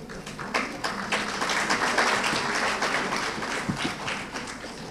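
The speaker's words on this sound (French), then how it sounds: "sous vos ovations" Audience applause at an award ceremony in Conakry, the third edition of a prize event, as a continuous dense patter of many hands, fairly distant, with no voices over it.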